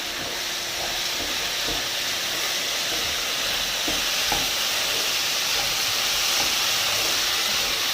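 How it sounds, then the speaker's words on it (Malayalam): Steady hissing sizzle of finely chopped potatoes cooking in a pan, with faint scraping stirs and soft clinks beneath the constant steam-like noise. "നമുക്ക് തുറന്നൊന്ന് ഇളക്കി കൊടുക്കാം"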